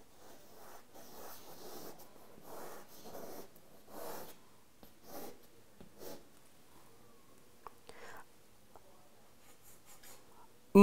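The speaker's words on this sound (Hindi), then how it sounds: "मैं वेद मंत्र लिखता हूँ" Pen or marker scratches across a writing surface in short strokes as a Vedic mantra is written out, quiet and close, with pauses between strokes.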